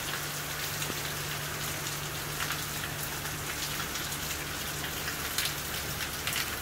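Steady rain pours down, a dense even hiss of drops on surfaces with occasional louder patters, continuous and fairly close, no voices.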